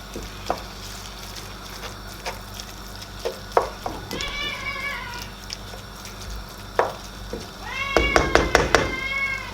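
A cat meows repeatedly in a kitchen while spinach with meat, coriander and garlic cooks, with soft sizzling and stirring underneath. The cries come close and clear in scattered bursts, ending in a rapid cluster of insistent meows.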